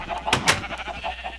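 Sheep bleat in a video game, with two short bleats close together in a brief clip, loud and close.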